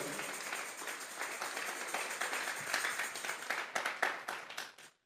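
Congregation clapping together in a church service, a steady dense patter of many hands that grows into sharper, louder claps before fading out at the end.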